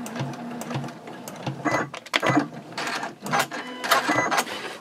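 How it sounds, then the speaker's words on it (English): A sewing machine back stitches through fabric for a reversible drawstring gift bag, running in short bursts with brief pauses and a mechanical rattle, close and fairly loud, with no voices. "And then you do want to back stitch."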